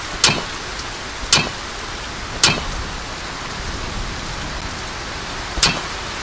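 Steady rain falling in the video game Ylands during a rainstorm, a continuous hiss broken by four sharp, bright cracks spaced a second or more apart, with no talk.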